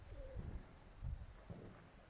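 Soft, low pigeon coos sound in three short bursts, close by and quiet, over a faint background hiss.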